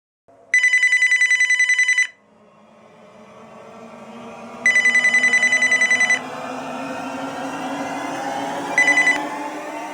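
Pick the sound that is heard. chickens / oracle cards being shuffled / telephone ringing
telephone ringing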